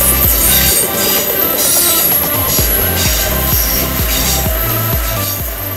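A ScotRail Class 380 passenger train rolls past close by at Paisley Gilmour Street, wheels clacking in a steady repeating rhythm over rail joints, with metallic squeal and a loud continuous rumble.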